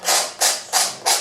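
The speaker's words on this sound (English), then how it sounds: "take it away. Scrape it off." Four rhythmic, close strokes of a palette knife scraping wet oil paint off a canvas during a still-life painting of a white rose, each a bright rasping sweep with brief gaps between.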